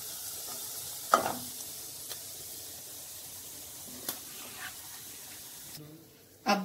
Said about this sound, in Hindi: और अब हम इसमें खजूर डाल देंगे और इन्हें भी इसी तरीके से फ्राई कर लेंगे